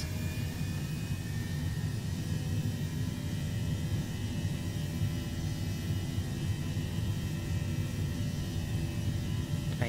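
Airbus A321 jet engines in Microsoft Flight Simulator roar as steady, dense cabin-side rumble with a thin high whine, holding loud and even throughout with no voices.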